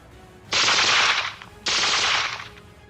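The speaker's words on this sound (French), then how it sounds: "Il y a une série de coups de feu," Two long bursts of rapid gunfire, each about a second, separated by a short pause, loud and close with no talking, serving as a sound effect during a tabletop role-playing game in which soldiers fire on a crowd.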